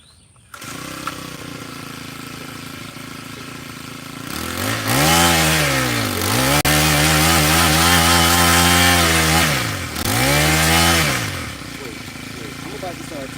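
A loud small garden tiller engine runs steadily, then revs up and down twice in strong surges before settling back to a constant drone.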